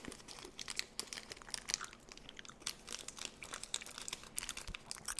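Hard gummy candies being chewed up close into a microphone, a continuous stream of sticky crunching and crinkly bites with no talking.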